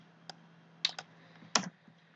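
A computer keyboard pressed a few times for a Ctrl V paste and save shortcut, giving four or five sharp, isolated clicks spread over a couple of seconds against a quiet room background.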